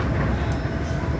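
A new electric passenger train on a metropolitan line from Bucharest's Gara de Nord to Buftea rumbles past with a loud, continuous low roar and rail noise, close by and without speech.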